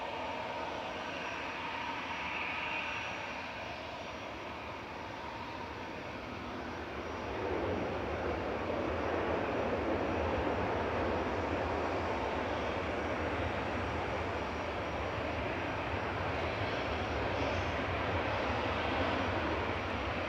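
A British Airways A320 Classic from London Heathrow touches down at Manchester Airport on runway 23 right, a distant, steady jet rumble and hiss that strengthens slightly after a few seconds and holds.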